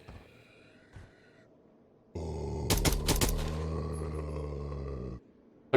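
Gunfire shooting zombies in a video game, a burst of rapid game shots roaring over a sustained rumbling din for about three seconds before cutting off, preceded by quieter ambience.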